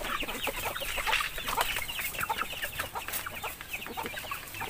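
Free-range Basilan Paraokan native chickens cluck steadily as a flock, many overlapping calls close by over constant background noise.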